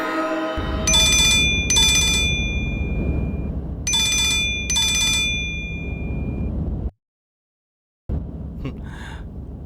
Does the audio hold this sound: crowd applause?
no